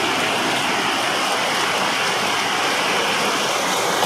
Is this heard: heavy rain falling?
yes